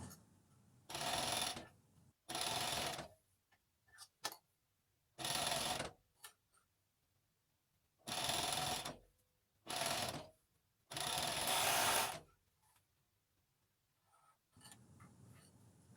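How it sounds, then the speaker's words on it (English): A Juki sewing machine, likely a coverstitch model, sews elastic onto the waist of knickers in several loud bursts of a few seconds each, separated by quiet pauses with small handling clicks. "I'm sewing the waist at the moment"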